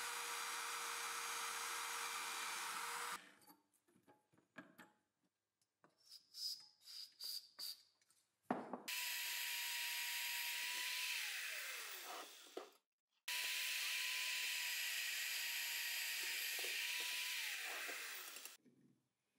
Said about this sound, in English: Now I drill the hole for the threaded rod.